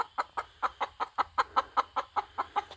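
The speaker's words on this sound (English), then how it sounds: "Oh, there's Mama Chicken right there." A mother hen clucking at night: a steady run of about fourteen short, evenly spaced clucks, close and fairly quiet, with a faint low hum underneath and no talking.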